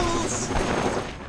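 An explosion in the video game Dirge of Cerberus, a loud burst of blast and crashing debris with gunfire-like crackle that dies away within a second and a half.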